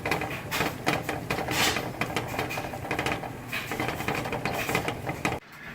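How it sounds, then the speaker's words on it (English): A household clothes dryer runs in the background with a continuous rattling, tumbling clatter of steady loudness, cutting off abruptly near the end. "that was the sound of my dryer going in the background"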